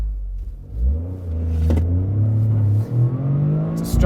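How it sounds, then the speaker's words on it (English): A Toyota GR Corolla with a manual transmission launches off the line in track mode with a 50-50 split. Its close, loud engine note climbs steadily in pitch through the revs, and a brief shift-like dip occurs near the end. "It's a stronger pull off the line."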